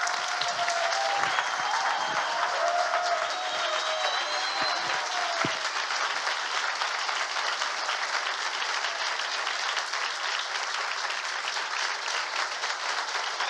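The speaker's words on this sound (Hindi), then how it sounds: "आइए यीशु के लिए एक जोरदार ताली बजाएं" Congregation applause at a Christian worship gathering, loud continuous clapping throughout, with a few brief voices and cheers early on.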